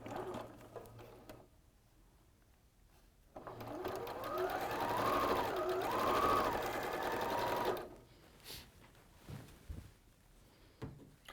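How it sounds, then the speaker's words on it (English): A sewing machine stitches quilt squares together, whirring in a steady run of several seconds after a quieter start, then stopping amid faint handling noises. "So you're literally just sewing 3 squares to 3."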